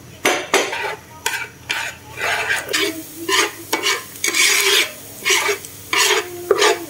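Lemongrass stir-fried in a pan already used for frying, for a vegetarian home meal: a spatula scrapes the pan in a steady run of short strokes over a light sizzle, fairly close, with no talking.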